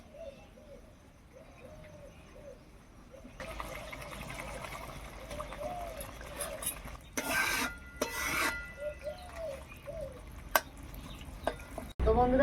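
Chicken kofta balls added to a frying spice mix in a pan and stirred, with brief scraping bursts and a soft simmering sizzle while doves coo repeatedly in the background.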